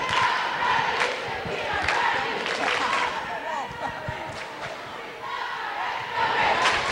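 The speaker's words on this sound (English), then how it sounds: "Listen to the crowd." Crowd noise at a 1995 high school basketball game between Mount Edgecumbe and Sitka, a steady loud roar of cheering and yelling with scattered thuds, close to the mic with voices mixed in throughout.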